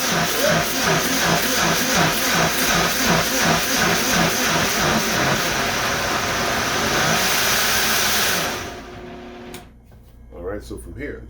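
A blender blending Irish sea moss gives a loud, rhythmically pulsing motor whir that runs steadily, then cuts out, leaving near quiet with a few faint knocks.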